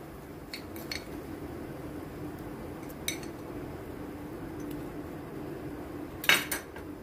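A spoon stirs a milk powder mixture in a pan, giving a low continuous scraping with a few sharp metallic clinks against the pan, the loudest near the end.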